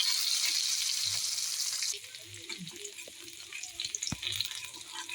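Loud sizzling of ginger and garlic frying in oil that quiets halfway through, followed by scraping and stirring sounds.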